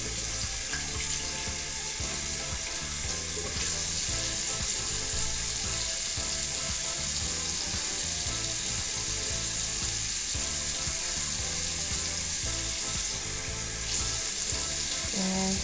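Tap water runs steadily into a sink while a makeup brush is rinsed clean, a continuous close hiss and splash that holds even and unbroken throughout with no talking.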